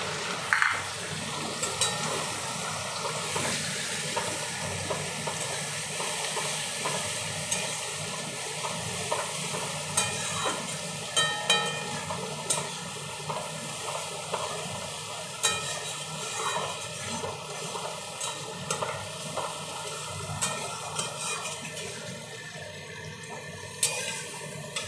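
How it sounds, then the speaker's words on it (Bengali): Chopped onions frying in a pan after a cumin tempering: a steady, close sizzle with scattered crackles and pops that continues throughout, with almost no voice over it. "পেঁয়াজটা লাল লাল করে ভাজা হয়ে গেলে তারপরে আদা রসুন বাটা দেবো"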